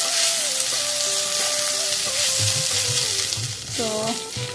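Squash and eggs fry in a pan with a loud, steady sizzle and crackle, accompanied by faint background voices and a few clinks of utensils.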